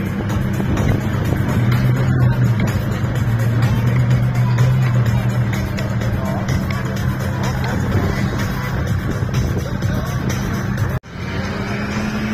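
An off-road vehicle drives at an off-road event in Hruštín, its engine droning steadily and loudly throughout. A commentator talks over it, and there is a brief cut near the end.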